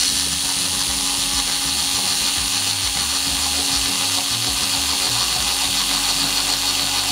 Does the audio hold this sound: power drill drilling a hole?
yes